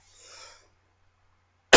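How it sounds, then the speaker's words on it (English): A faint, brief cough or throat sound followed by silence, then an abrupt loud burst at the very end. "I apologize, that's all a little lingering cough."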